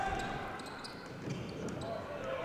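A basketball dribbled a couple of times on an indoor court during a college men's game, sharp bounces over a steady arena murmur.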